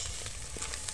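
Onions and omena fish frying together in a village cooking pan give a steady, moderate sizzle with faint crackles and occasional bright pops, heard alone without talk.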